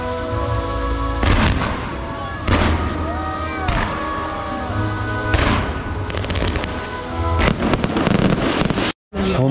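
Fireworks show at Peterhof Palace in St. Petersburg, with loud booming bursts and crackling repeating every second or so, interspersed with whistling rockets, heard close and strong throughout.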